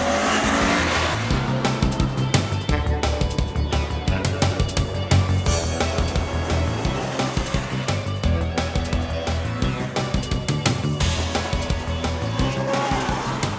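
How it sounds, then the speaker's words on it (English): A new Nissan Skyline GTR drives hard, its engine loud and steady throughout, with tire squeal and skidding and a busy backing track layered over it. "This is the new Nissan Skyline GTR"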